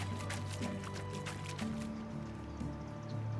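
Water being collected in the medieval survival game Medieval Dynasty, a steady liquid filling and dripping sound with soft splashes, continuous and fairly quiet, alone without talk.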